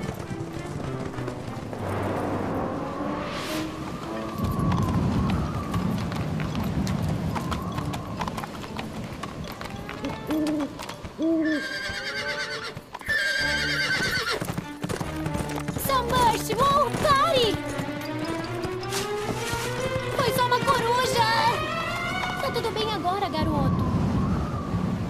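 Cartoon horses galloping with rhythmic clip-clopping hooves and a whinny, loud and close, mixed with music and characters talking.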